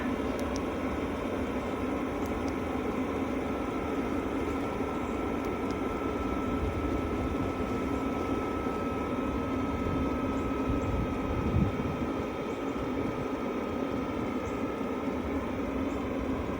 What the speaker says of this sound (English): let you hear how quiet the diesel pump actually is after warm-up